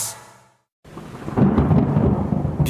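A loud thunder crack rolls out of a brief silence into steady, heavy rain on a surface, used as a sound effect in a radio advertisement for basement flooding services.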